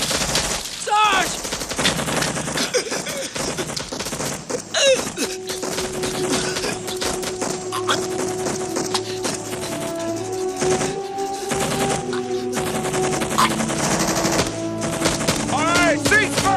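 Rapid bursts of gunfire from the 1989 war film Casualties of War, with loud, dense volleys and machine-gun rattle running almost continuously, plus a sustained tone and shouting voices mixed in.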